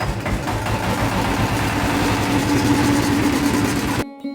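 A vehicle engine runs steadily at idle during an engine check for a farm vehicle used to prepare land for ploughing, a loud, close, continuous low rumble with vibration that cuts off abruptly near the end.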